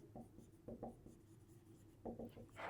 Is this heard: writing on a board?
yes